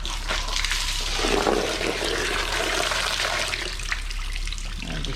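Engine coolant from a Chevy Impala pours out of a pulled hose into a catch can, a steady close rushing and splashing of liquid throughout.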